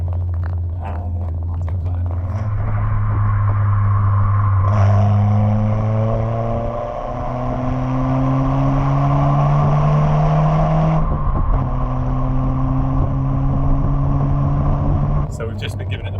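A Peugeot 205 GTI engine roars loudly from inside the cabin as it accelerates hard around a roundabout, pitch climbing through the gears in long rising sweeps with a brief drop between shifts.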